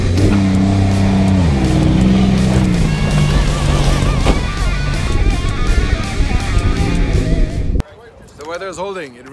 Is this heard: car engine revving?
yes